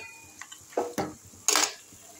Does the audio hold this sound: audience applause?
no